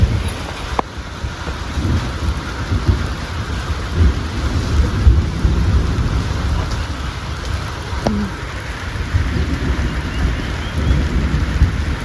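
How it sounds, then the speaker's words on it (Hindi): Heavy rain pours steadily in a mountain village, with thunder rumbling through the downpour; the rain stays dense and close throughout, and no one speaks. "एकदम बारिश आई बहुत तेज।"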